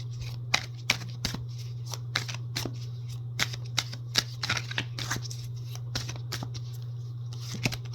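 Tarot cards being shuffled by hand in a quiet room: a series of crisp, irregular riffling snaps and soft slides, close by, over a steady low hum.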